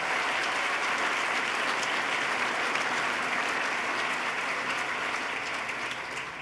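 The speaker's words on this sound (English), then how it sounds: "Let's give him a round of applause." Dense, steady applause from a large audience at the New York State of the State Address honoring Lieutenant Governor Bob Duffy, sustained evenly for several seconds and easing slightly at the end.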